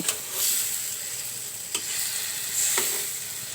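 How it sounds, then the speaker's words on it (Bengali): Snakehead fish frying in a pan with tomato, beans and new potatoes: a soft continuous sizzle broken by a few sharp scraping stirs. "এবার আমি শোল মাছটা একটু ভালো করে কষিয়ে নেব"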